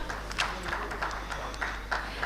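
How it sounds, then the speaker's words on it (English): Scattered applause from a small audience at a rail industry expo, with light clapping bursts rising and falling over a steady hum of room noise. "May we have a big round of applause"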